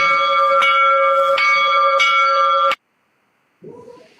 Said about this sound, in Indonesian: ini lonceng gereja ini